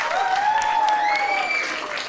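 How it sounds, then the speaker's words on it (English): An audience at a school instrumental band concert claps steadily while a thin, high whistle-like tone glides above the applause. "So another round of applause, please."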